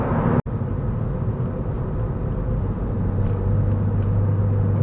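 A Honda Civic Si Coupe engine pulls hard under acceleration in second gear, a steady loud rumble from inside the car that builds slightly in pitch, with no talking.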